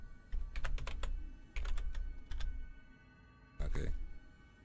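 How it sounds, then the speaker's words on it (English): Close, crisp computer keyboard typing while entering a character name in Persona 3 Reload, coming in several short bursts separated by pauses, with a low game hum underneath. "I'm gonna have to use the keyboard. You ready for the keyboard ASMR?"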